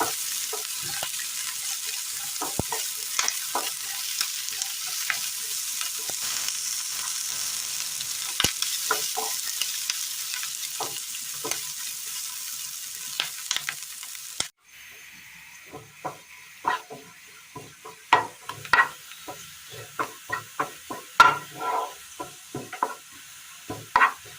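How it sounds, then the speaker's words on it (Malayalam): Sliced onions sautéing in a pan for a Kerala curry: a steady close sizzle with frequent scraping stir clicks, with no talking. "സവാള ഒന്ന് വഴന്നു വന്നിട്ടുണ്ട്"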